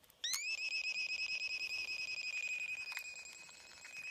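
A pocket radio with low batteries, turned up to maximum, gives a piercing, steady multi-tone squeal after a sharp onset, pulsing quickly and evenly throughout.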